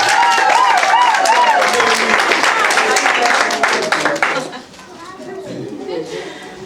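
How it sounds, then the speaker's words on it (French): Guests applaud at a civil wedding ceremony, a dense burst of clapping over loud voices that fades after about four seconds into quieter murmuring. "On acclame!"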